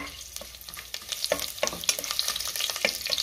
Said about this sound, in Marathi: आता तेल तूप गरम झालं आहे, त्यामध्ये हे खडे मसाले आणि मिरची घालते.